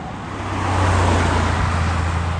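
Porsche 993 Carrera S arriving at a supercar event, its engine a smooth, fairly loud low rumble that swells as the car draws near and then holds steady, with no voices.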